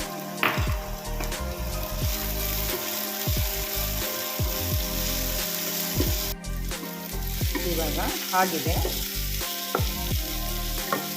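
Tomatoes frying in a pan for a chutney, a continuous close sizzle with repeated scraping stirs and ladle clatter; a voice says a few words partway through.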